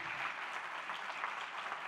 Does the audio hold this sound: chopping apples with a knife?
no